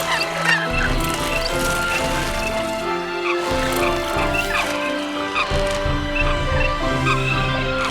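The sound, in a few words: Eurasian coots calling on a forest lake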